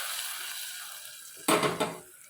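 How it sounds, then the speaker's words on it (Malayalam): Mustard seeds crackle and splutter in hot oil while tempering for a tomato sambar, a soft steady sizzle suddenly swelling into a louder burst of popping near the end. "ഞാൻ കടുക് ഇട്ട് കൊടുത്തു. ഒന്ന് പൊട്ടി വരട്ടെ."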